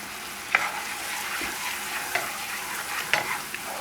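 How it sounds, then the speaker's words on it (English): Mushrooms in a cream and sherry sauce are stirred in a pan, a low simmering hiss broken by a few sharp scrapes of the spoon against the pan, quiet and close, no talking. "Give it a stir."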